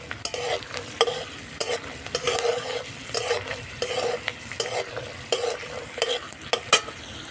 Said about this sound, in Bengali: বাদামগুলো কড়া করে ভেজে নেব।